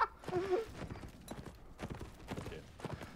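Horse hooves from a video game capture-the-flag battle event, a quick steady clip-clop of galloping at moderate level, with a brief whinny-like tone at the start.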